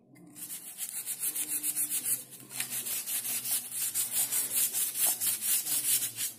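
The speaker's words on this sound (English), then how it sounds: "I'm going to scrub this switchboard" A dirty wall switchboard is scrubbed with a cleaning solution, making a close, rhythmic back-and-forth rubbing with quick regular strokes that keep going throughout, with no talking.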